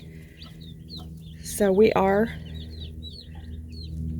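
Young hens in a coop cluck and squawk in one short loud burst at close range over a low background murmur, while a person talks briefly.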